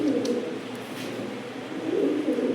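Pakistani imported Teddy-bloodline pigeons in a loft coo close by, with low rolling calls that rise, fade and return in repeated phrases.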